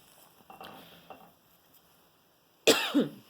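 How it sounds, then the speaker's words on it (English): A single harsh cough breaks out near the end, loud and close, after a stretch of quiet faint clinking. "I've had this nagging cough like I'm getting sick"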